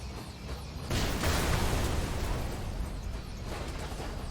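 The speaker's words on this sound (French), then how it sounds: "La petite explosion pour la fin." Small explosion in the top-down mech video game Brigador: a sudden burst lands about a second in, then a rough, roaring decay lingers for several seconds at moderate level, with no talk.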